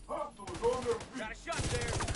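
Rapid automatic gunfire in The Division 2, heard as fairly faint, repeated shots in quick bursts across the clip, mixed with game voices and background sound.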